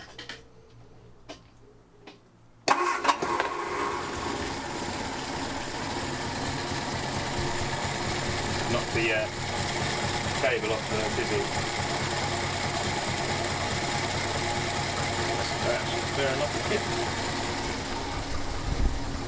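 A 1960s Ford Anglia engine cranks after a few faint clicks, then catches and settles into a steady, loud idle close by. A voice speaks briefly over the running engine.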